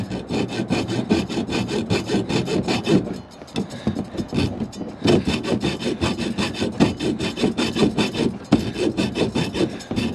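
A hand saw blade cuts through scrap metal in quick, steady back-and-forth rasping strokes, close and loud, with a brief pause midway before the sawing resumes.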